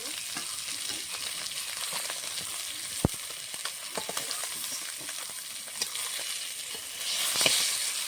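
Tilapia fish fries lightly in a pan with a continuous bright sizzle and occasional sharp clicks from stirring, steady throughout and intensifying slightly near the end.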